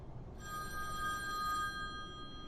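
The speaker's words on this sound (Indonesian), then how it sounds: "Telepon pun berdering" A telephone rings with a steady bright electronic tone that begins after a brief moment and holds for about two seconds, fairly quiet, over a low background hum.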